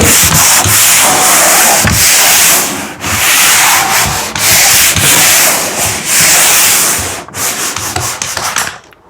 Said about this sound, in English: So, we just sand everything.